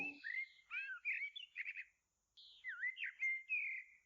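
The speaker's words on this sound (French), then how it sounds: "Écoute le bruit des oiseaux" Clear, close bird chirping: a string of bright whistled notes and trills in short bursts, with a brief pause in the middle.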